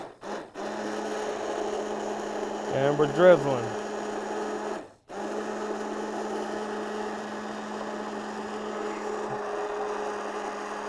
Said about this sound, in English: I'm going to start the blender. I'm going to put it on high speed.